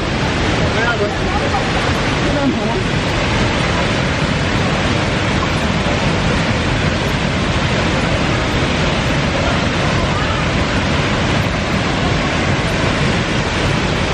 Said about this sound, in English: I don't even know if you guys can hear me because the fall is so noisy.